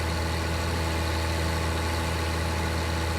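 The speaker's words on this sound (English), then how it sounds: "I need to get the autonomous tractor going with our slurry sprayer" A tractor engine in Farming Simulator 19, pulling a slurry sprayer across a grass field, drones with a steady, loud, unchanging hum that holds for the whole stretch with no voices.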